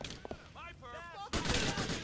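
Gunfire in the video game GTA 4 bursts in loudly partway through as dense, sustained shots, after a quieter stretch where a voice speaks with a sung, wavering tone.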